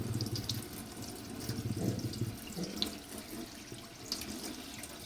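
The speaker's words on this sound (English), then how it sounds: "Just clean it, and then show the kettle under cold running water." A moka pot is rinsed under cold running tap water in a sink, a quiet, continuous faucet splash with small shifting gurgles and drips as the pot moves in the stream.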